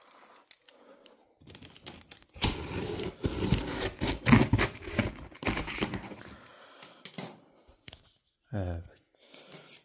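Cardboard box of a new PC being opened by hand, with close rustling, scraping and tearing of cardboard in bursts, mixed with someone talking in French.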